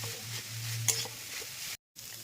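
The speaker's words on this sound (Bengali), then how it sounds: "এবার মশলা সমেত মোচাটাকে খুব সুন্দর করে আরেকটু কষিয়ে নেবো।" Banana blossom sautés with spices in a pan, a steady close sizzle with scraping stir strokes and one brief break in the sound.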